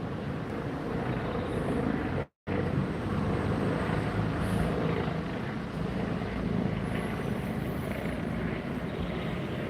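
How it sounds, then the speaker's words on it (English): A helicopter buzzes somewhere overhead above a park in Manila, a steady rotor drone that stays fairly even throughout, with one brief dropout near the start and no one speaking. "There's some buzzing from a helicopter."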